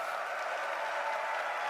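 A live esports event audience applauding and cheering, a steady wash of clapping and crowd noise heard from a distance, fairly faint and unbroken for a brief moment.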